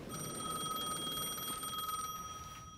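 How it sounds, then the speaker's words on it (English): A payphone rings in the video game Alan Wake 2 with a steady metallic bell trill that runs for nearly three seconds and fades slightly at the end. Room ambience sits under it and no one speaks. "The payphone was ringing again."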